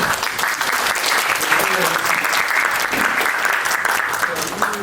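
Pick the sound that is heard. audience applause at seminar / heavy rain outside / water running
audience applause at seminar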